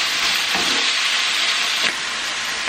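Spice blend sizzling in a hot pan while a chicken and bacon caesar-style salad is being cooked, a steady broadband hiss of frying that holds fairly loud throughout with a slight dip near the end.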